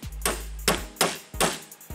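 Five sharp, evenly spaced knocks from a soft-faced hammer tapping a pin into a Martini .310 Cadet rifle, close and clear with no talk.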